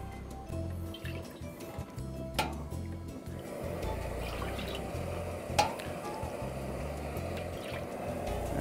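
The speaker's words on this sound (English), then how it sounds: "We're going to put about 4 ladle spoonfuls of water in here." Water ladled into a metal wok, a steady liquid rush with a couple of sharp clanks from the ladle against the rim.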